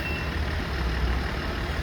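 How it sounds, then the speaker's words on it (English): Trucks pass by outdoors in Colorado Springs, giving a dense, steady rumbling roar that holds at an even loudness throughout, with no talk. "I had some trucks going by there."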